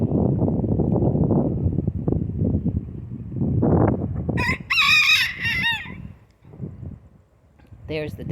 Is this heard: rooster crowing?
yes